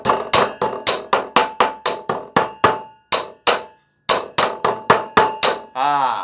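A quality hammer is tested at full force, striking hard again and again in a fast, steady rhythm of sharp, loud metallic blows with ringing tails, broken by one short pause and ending in a brief buzzy rattle.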